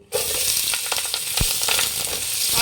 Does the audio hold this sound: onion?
yes